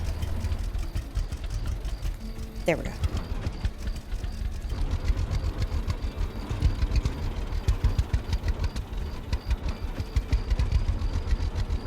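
A tractor engine in the farming game Farmer's Dynasty idles and reverses with a steady, low, knocking mechanical drone that runs unbroken throughout, and someone speaks briefly over it.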